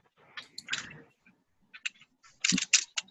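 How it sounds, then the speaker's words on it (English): Typing on a computer keyboard picked up over an online meeting, irregular clusters of close clicky keystrokes with pauses between bursts, no talking. "somebody might need to mute who's doing some typing here"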